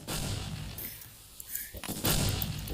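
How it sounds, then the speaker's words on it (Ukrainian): A grenade exploding in the Minecraft video game, several dull booming blasts with a short quieter gap between them, fairly loud. "Я зараз гранату кудись кину."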